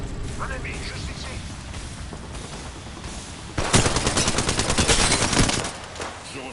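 Rapid automatic gunfire in the Apex Legends video game, a burst of loud close shots from about 3.5 to 5.5 seconds over a busy game soundscape, with quieter firing and game noise before and after.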